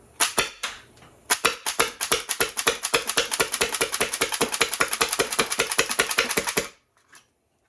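A 3D-printed HPA Nerf blaster with an air leak in the grip fires semi-automatically: a few sharp close pops, a short pause, then a long rapid run of evenly spaced loud shots that stops abruptly, with a faint hiss between.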